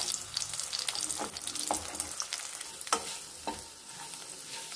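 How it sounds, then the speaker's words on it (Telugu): Eggs sizzle steadily in a hot pan while being fried for homemade egg noodles, with repeated scraping and stirring strokes of a spatula breaking them into large pieces, close and moderately loud, no talking. "ముందుగానే మనం ఎగ్ ఫ్రై చేసుకొని పక్కన ఉంచేసుకోవాలి"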